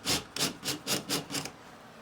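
A screwdriver twisted by hand against drywall sheetrock to bore a hole for a wall plug: six quick rhythmic rasping scrapes, close and fairly faint, with no talking.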